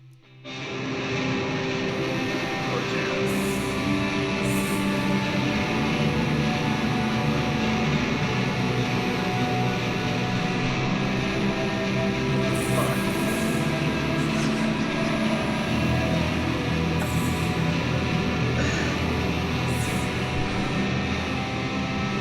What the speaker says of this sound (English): we got some experimental, ambient, noisy guitar stuff